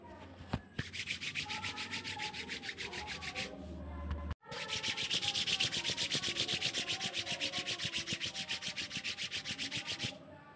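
Palms rubbed briskly together during a yoga warm-up, a close rhythmic swishing friction in quick regular strokes, with a brief pause after a few seconds before a longer stretch of fast rubbing.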